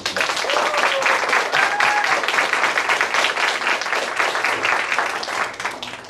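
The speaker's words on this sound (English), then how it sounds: "A good round of applause for them" A crowd at a construction training program graduation gives a sustained, loud round of applause, dense continuous clapping that holds steady and tapers slightly at the end.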